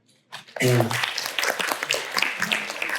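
Audience applause at an interactive research seminar, breaking out after a brief loud voiced sound and continuing as a dense, fairly close patter of clapping with voices mixed in.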